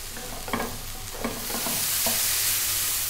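Mushrooms frying in a pan with herbs give a steady close sizzle, cut by a few clattering stirs of a utensil early on before the hiss swells and evens out, with no voices.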